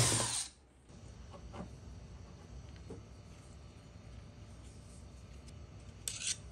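A steady power drill whirs at close range, running continuously with a faint mechanical hum after a brief louder start.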